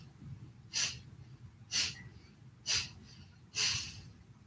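Four sharp, forceful Kapalabhati yoga exhales puff out through the nose at a steady rhythm, each a short breathy burst about a second apart, close and clear over a soft low room hum.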